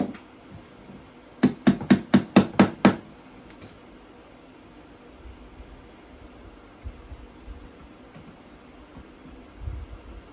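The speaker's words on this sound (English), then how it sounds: "Where's my makeshift hammer?" A rapid burst of seven sharp hammer strikes on TV stand parts with a makeshift hammer, close and loud, followed by quieter handling and rustling sounds.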